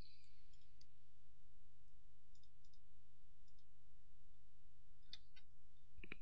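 Mouse clicks while selecting cells in an Excel spreadsheet, several sharp, quiet clicks scattered across a low, steady hum, some coming in quick pairs.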